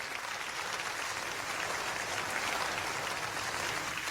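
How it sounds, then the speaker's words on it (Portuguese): Steady applause from a church congregation fills the space, a dense continuous wash of clapping that holds evenly at moderate loudness from start to finish with no voices over it. "Pode glorificar o Senhor com palmas."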